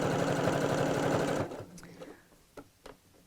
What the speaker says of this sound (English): you could pop that in between the two layers as you're sewing around